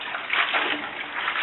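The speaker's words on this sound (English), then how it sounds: "And this is really the only best way to wash them?" Collard greens being washed by hand in a sink or tub of water, a steady broadband wash of sloshing and running water, continuous and close, with no speech over it.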